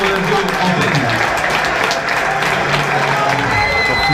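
Stadium crowd at the Stade de France applauding Cristiano Ronaldo during the France–Portugal final, a dense, steady wash of clapping and crowd noise heard at full volume throughout.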